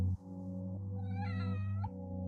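A cat meows in an anime episode, a single drawn-out, rising-and-falling meow heard clearly and alone over a steady low background tone.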